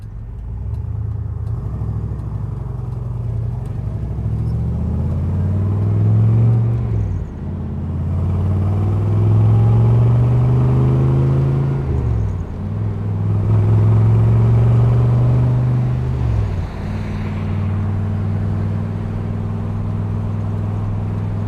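A car with a 370 rear end and a close-ratio M21 transmission drives past steadily, its loud engine drone rising through the gears in repeated sweeps with brief dips at each shift, and no one speaks.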